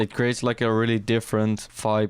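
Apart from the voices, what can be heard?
No everyday noise stands out behind the speech.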